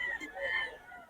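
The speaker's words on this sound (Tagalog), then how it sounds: "Mga manok niya. Ang dami." Chickens for sale clucking close by at a seller's place, a short burst of throaty calls with no talk over them.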